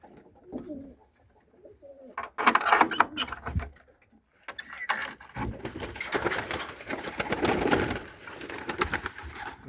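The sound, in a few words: Turkish Takla pigeons cooing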